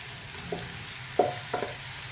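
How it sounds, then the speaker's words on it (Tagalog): Jackfruit being added and stirred into a pot of cooking coconut milk, with a few soft scraping and plopping stir sounds over a steady low simmering background, close up and without talk. "Ilagay natin ang ating langka."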